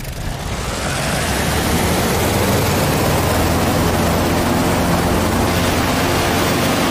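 A WWII-era warbird's piston engine runs steadily in a combat flight sim, a loud, constant roaring drone that swells up in the first second and then holds evenly throughout.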